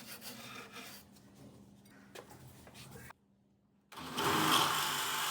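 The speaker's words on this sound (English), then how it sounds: "Just have a brass brush." A brass brush scrubs an antique 1800s wooden desk soaked with acetone, giving a steady rough scraping. It pauses briefly, then returns louder and harsher, close up, with no talking.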